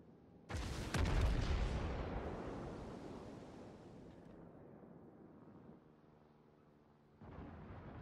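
Naval gunfire from battleships such as the Izumo and Nagato in World of Warships: a loud booming salvo opens, then a long rolling rumble fades, and a second heavy blast returns near the end. No one speaks.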